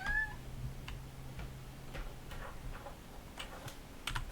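A house cat gives a brief meow to be let out, heard at the very start, followed by faint soft ticking and small clicks against a quiet room background.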